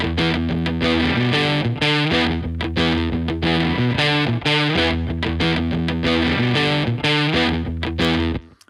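Distorted electric guitar riff through a modeled amp, recreating the tone of a song: loud, gritty, rhythmic repeated phrases with punchy palm-muted chugs, playing alone throughout before cutting off at the end.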